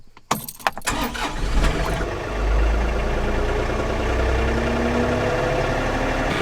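A tractor engine starts and settles into a steady, loud idle with a deep low rumble, running the PTO drive of a Woodland Mills WC68 wood chipper rated for 6-inch logs; brief clunks and jangles come at the start, and no one speaks.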